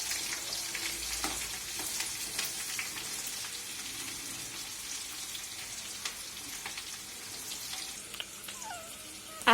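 Onions, chili and coriander fry in a pan for potato fry, a steady hiss of sizzling with scattered crackles and occasional stirring scrapes, close and continuous with no voices.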